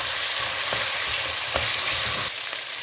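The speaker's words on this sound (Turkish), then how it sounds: "Salçamızı iyice kavuralım ki ekşimsi bir tat olmasın." Tomato paste frying in a pan for a leek and meat stew, a steady close sizzle with a few soft stirring scrapes, no talking.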